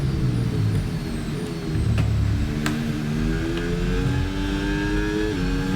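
Formula 1 race cars in the F1 26 video game at Barcelona: a loud, steady, high-pitched engine drone with gear shifts and several overlapping cars close together, no talking.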